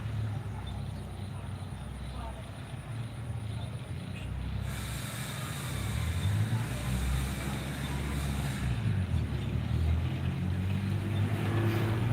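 A car engine hums and rises as a vehicle passes nearby, over steady background traffic and a faint high whine.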